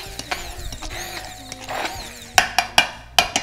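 A blender chopping parsley and chile for chimichurri, with a few short sharp pulses near the end over a busy whirring, clattering background, and no talking.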